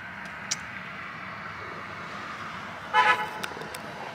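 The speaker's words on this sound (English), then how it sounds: "Oh, neighbor's honking." A neighbor's car horn honks in a couple of quick toots near the end, sounding slightly distant over a steady background hiss.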